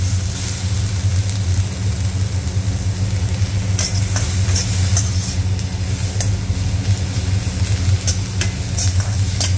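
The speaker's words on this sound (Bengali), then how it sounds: "আমি এখানে তেলের মধ্যে ফ্রাই করলাম।" Chicken franks fry in oil with a steady, close crackling sizzle, joined midway by brief sharper pops and spits, under a constant low hum, with no speech.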